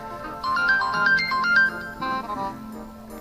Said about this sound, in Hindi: अरे ले फोन तेरा ही आ गया, सुन ले।